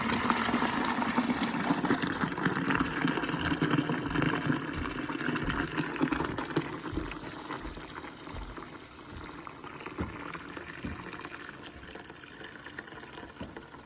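Dirty gray water from a carpet cleaner after a big black stain swirls and gurgles steadily, a continuous splashing liquid rush that slowly softens over about fourteen seconds.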